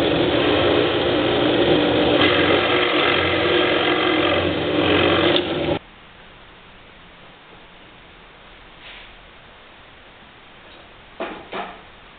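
A drill with a 1 1/8 inch Forstner bit bores into wooden boards, giving a loud, steady grinding whir that stops after about six seconds, followed by a few short mechanical clicks.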